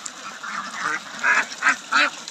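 Farm ducks quack in a series of nasal calls, several short bursts in quick succession with louder ones toward the end, close by and without talk.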